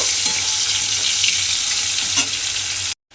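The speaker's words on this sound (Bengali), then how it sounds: "এইভাবে বেগুনগুলো দিয়ে একটু লাল করে বেগুনগুলো ভেজে নেব" Eggplant pieces fry in hot oil until reddened, giving a loud, dense, continuous sizzle close by, with a faint clink or two before an abrupt cutoff near the end.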